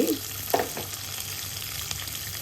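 Chopped green chillies fry quietly in oil with chana dal for rava upma, a faint steady sizzle with a few soft stirring clicks early on.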